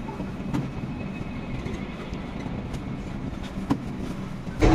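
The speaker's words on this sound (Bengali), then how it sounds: "নিজের ট্রেন কিন্তু চলা শুরু হয়ে গেছে" A Vande Bharat Express on the Howrah–Puri route starts moving, heard from inside the coach as a steady low rumble with occasional sharp clicks and knocks, moderate in level with no talk.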